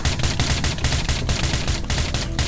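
Dense, continuous automatic gunfire from the Minecraft video game during a zombie prison break-in, a loud rapid burst of shots sustained throughout with no talking.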